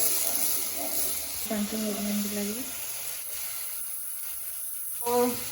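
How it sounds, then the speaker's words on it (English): Food sizzling and frying in a pan over a medium flame while minced chicken keema is being sauteed, a steady soft hiss with brief stirring bursts and a voice speaking partway through. "Saute it for at least 1 more minute on medium flame itself"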